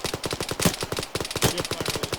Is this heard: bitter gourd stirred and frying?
no